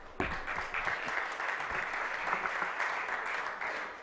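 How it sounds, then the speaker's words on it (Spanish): Applause from a conference audience at an irrigation communities meeting, steady dense clapping that starts abruptly and holds at an even level for about four seconds. "Un aplauso"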